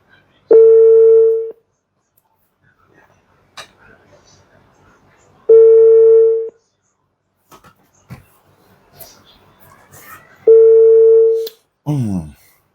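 A telephone ringback tone sounds while a call is placed, three evenly spaced steady beeps about five seconds apart, clear and close, with faint rustling and a brief voice between them.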